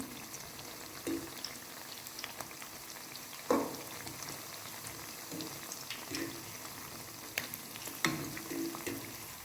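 Potato pakoras fry in oil over low to medium heat, giving a steady close bubbling sizzle, with occasional soft clinks and splashes as the pieces are turned, no speech.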